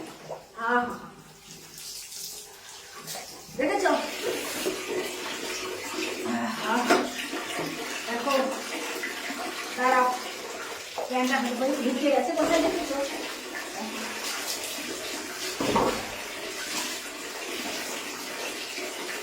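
Water poured and splashing during a bath, loud and close in bursts over about twenty seconds, with a person talking and laughing between the pours.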